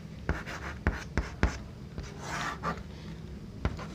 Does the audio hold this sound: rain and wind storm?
no